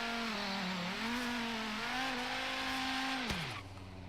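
A twin-turbo 1,000-horsepower drag racing car runs hard, its engine note loud and steady with a rising, wavering pitch before dropping sharply near the end as it lets off.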